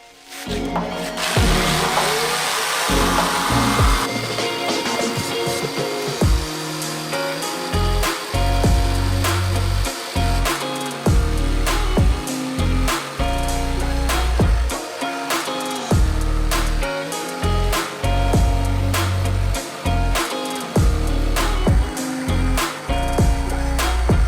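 A power tool cuts a plywood template for a boat transom on a Pacemaker 20 ft boat restoration, in a long whining run followed by repeated short rhythmic bursts, loud and close, with no talk.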